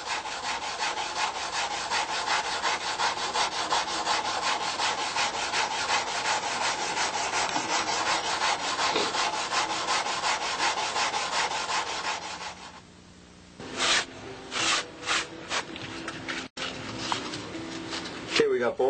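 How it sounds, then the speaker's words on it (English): Sanding block with 80 or 120 grit sandpaper rubbing steadily over wooden model wing tips, a continuous close scratchy rasp for about thirteen seconds, then shorter separate strokes after a brief pause. "you can just start working with a sanding block now with maybe some 80 grit or some 120 grit"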